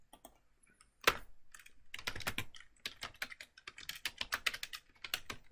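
Code typed on a computer keyboard, close-up clicking keystrokes in irregular bursts with brief pauses, quick runs of taps toward the end.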